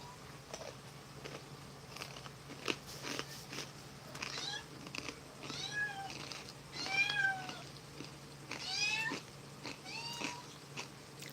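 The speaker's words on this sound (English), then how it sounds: "Pumpkin is down meowing again." A pet cat named Pumpkin meowing repeatedly in a quiet room, several drawn-out meows at fairly even intervals, moderately distant, with faint tapping and a low background hum.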